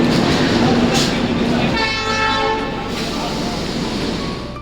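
A train at a railway station gives a loud, close rumble and hiss, with a sustained horn-like tone sounding for about a second midway and fading as the noise drops a little.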